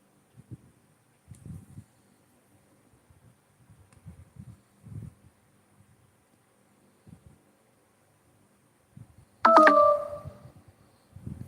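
A phone sounds a short electronic tone burst near the end, loud and close, after a stretch of quiet, scattered soft rustling.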